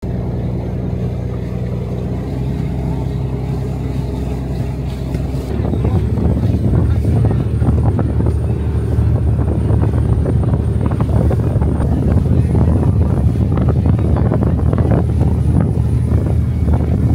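A small motorboat carries passengers across the sea. Its engine drones loud and steady, surging stronger partway through, with wind buffeting the microphone.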